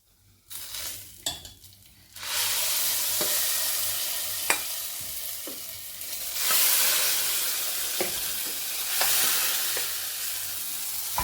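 Grated coconut roasts in a pan for pumpkin erissery, a constant close sizzle broken by sharp scrapes and knocks of a stirring spoon, no talk.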